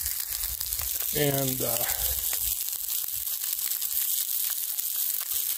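Steady, loud sizzling of food frying in a pan, a constant crackling hiss, with a brief spoken word early on.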